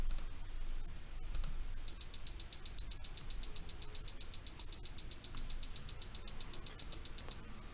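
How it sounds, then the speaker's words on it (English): A programmed hi-hat pattern built in FL Studio ticks along in a steady, even run of crisp, bright hits over a low, murky backing, close and fairly quiet. "you have your basic hi-hats that everyone knows and expects from this type of music"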